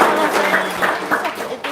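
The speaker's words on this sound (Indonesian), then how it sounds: "Tepuk tangan dong, luar biasa." Brief burst of audience clapping at a home-security testimonial gathering in Palembang, loud and close, mixed with voices talking over it, rising and falling in short uneven swells.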